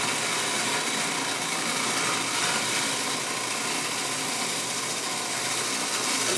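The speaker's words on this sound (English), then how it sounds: "turn the machine on, and then add just enough oil until the sauce becomes somewhat pourable" A food processor running steadily as chive pesto is blended with olive oil, a dense whirring mechanical drone held at constant loudness, close and without talking.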